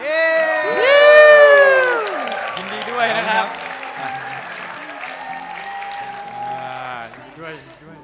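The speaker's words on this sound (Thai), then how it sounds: "ขอเสียงปรบมืออีกครั้งครับ" Crowd applause and cheering rise around a speaker at an awards ceremony, with excited voices and a sustained wash of clapping throughout.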